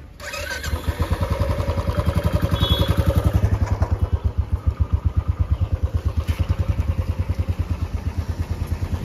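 A motorcycle engine starts and runs close by on a road trip from Nainital toward Bhimtal, a loud, rapid chugging pulse that holds steady for several seconds with no talk over it.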